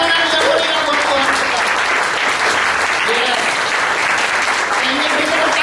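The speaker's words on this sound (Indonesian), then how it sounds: "Mari kita beri tepuk tangan yang meriah buat Tuhan." Church congregation applauding loudly and steadily throughout, a dense sustained clapping that fills the room with some voices mixed in.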